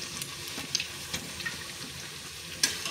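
Potato bajji frying in hot oil until reddish-brown, a steady close bubbling sizzle with scattered sharp pops and crackles throughout, no talking.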